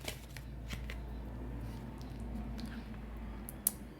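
Tarot cards are shuffled and drawn close by, giving soft riffling and sliding with a few sharper card snaps over a low room hum.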